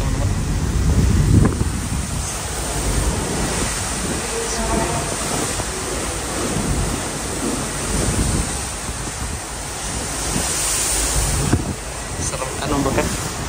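Large ocean waves on the Indian Ocean, heard from aboard the passenger ship KM Lawit on the Jakarta to Nias route: a steady, loud wash of wind and surging water roars throughout, with heavier swells building and breaking at intervals.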